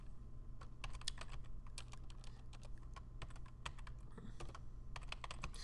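A name is typed on a computer keyboard in a steady run of crisp key clicks with brief pauses, close and fairly quiet over a low hum, with no voices.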